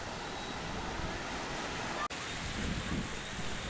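Surf washes steadily onto the shore at Kozhikode beach, a soft, even roar mixed with wind noise, heard faintly from nearby with a momentary dropout midway.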